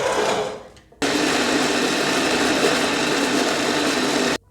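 Electric blender grinding tomatoes and green chillies for chutney, a brief whirring burst that stops, then a continuous loud motor whine for about three and a half seconds before it cuts off sharply, close and alone.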